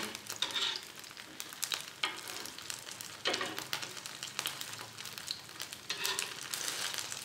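Egg fries in a pan for cilor with a crackling, spitting sizzle that rises and falls in bursts, close and alone, with no talking.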